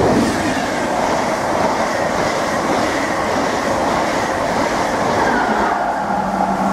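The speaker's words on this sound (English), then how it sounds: "here comes the Mark 3 set going to Norwich" Mark 3 passenger train rushing through Needham Market station at speed: a loud, close, continuous roar of wheels and carriages over the whole span, with no talk.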